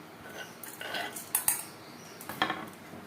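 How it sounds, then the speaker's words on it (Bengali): Green chilies are chopped on a board in a home kitchen for beguni batter, giving scattered sharp knife taps and clinks at close range, a few distinct hits amid quiet pauses with no talk. "বেগুনির জন্য কাঁচা লঙ্কা কুচি করে কেটে নেব।"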